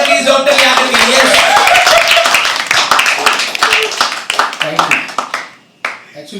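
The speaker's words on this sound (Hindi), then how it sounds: "जोरदार तालियां प्लीज" A burst of audience clapping at a live poetry open mic, loud and dense at first, thinning out to scattered claps toward the end, with voices mixed in.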